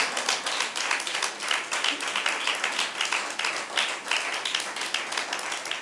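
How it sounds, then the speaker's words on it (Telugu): A church congregation claps hard during a Sunday service, a sustained burst of many hands slapping together in a lively, fairly even rhythm, loud and close with no talking over it. "గట్టిగా చప్పట్లు కొట్టండి ఒకసారి"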